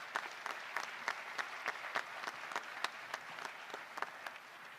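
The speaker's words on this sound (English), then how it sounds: "Please give them a round of applause again" Applause from the audience at a 2021 high school graduation ceremony, with dense clapping and distinct sharp claps standing out, steady at moderate distance and without voices.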